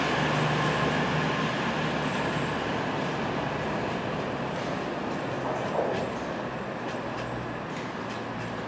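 A Meridian train rumbles steadily through Nottingham station, a loud, continuous roar of wheels and engine with faint squeals near the end and no voices.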